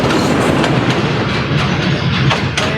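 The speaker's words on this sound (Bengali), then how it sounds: "ট্রেনটা কিন্তু আমাদের খুব কাছে, আর ব্রিজে প্রবেশ করে গেছে ট্রেনটা। এখন শব্দ হবে।" A passenger train on the Lalmonirhat–Santahar line rolls across the rail bridge over the Teesta River very close by, a loud sustained rumble with rhythmic clickety-clack of wheels over rail joints.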